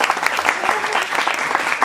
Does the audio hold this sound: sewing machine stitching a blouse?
no